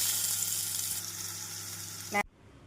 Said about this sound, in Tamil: எண்ணெய் காய்ந்து விட்டது நாம் சேப்பங்கிழங்கை போட்டுவிடலாம்